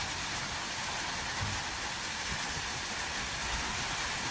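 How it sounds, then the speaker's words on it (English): Steady rain drums on a roof above a wasp nest during a thunderstorm, a dense, even hiss with no pauses, fairly close and constant throughout with no voices. "Sounds of the rain hit the roof."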